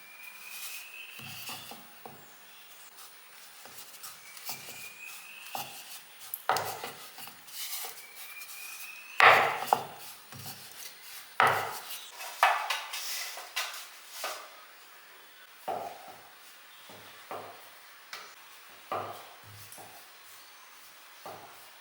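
Wheat puri dough being rolled out with a wooden rolling pin on a board, giving soft repeated rubbing strokes and light knocks in an irregular rhythm, close and fairly quiet, with no talking.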